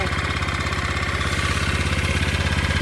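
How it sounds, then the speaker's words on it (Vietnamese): A rebuilt Japanese engine idles smoothly up close, its even, rapid firing pulses holding a steady rhythm at a constant loudness throughout, with no voices. "Máy nổ là cũng như là rất là im nha anh em."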